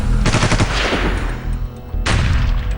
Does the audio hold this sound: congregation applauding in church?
no